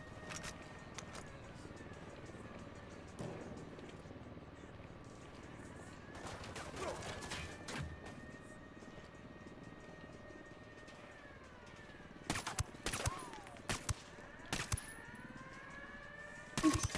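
Mounted gun firing in Ghost Recon Wildlands, heard as several sharp bursts of gunfire in the later seconds, with earlier shots against steady engine and vehicle noise. Players talk briefly.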